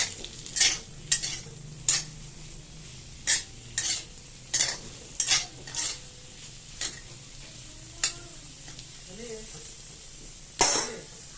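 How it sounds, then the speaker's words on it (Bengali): Vegetable curry bubbles in a pan with a low, steady simmer, broken by a dozen sharp clacks of a spoon against the pan's rim. "তরকারিটা জাল উঠে পড়েছে"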